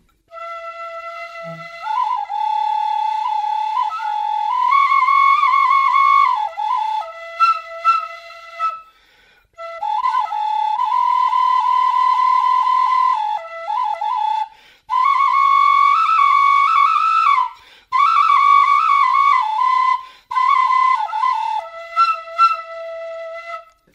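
A traditional Lepcha wind instrument played solo, giving a clear, loud whistle-like tone that holds steady notes, slides between pitches and pauses briefly between phrases, with no talk.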